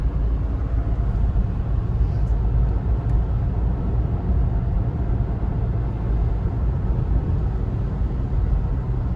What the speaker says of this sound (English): I kind of want to hear the vehicle accelerate, and we're still in fourth gear here.